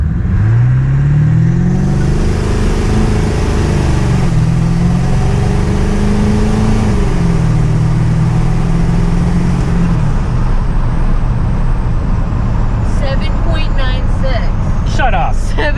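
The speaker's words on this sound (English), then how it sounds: "We'll do one more, and we'll see if I can launch without spinning." A tuned 7.3 Powerstroke diesel truck launches hard and accelerates, its deep engine note climbing through several rising pulls with shift drops between them before settling into a steady roar, loud and close.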